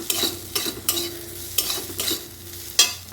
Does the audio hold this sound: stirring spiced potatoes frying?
yes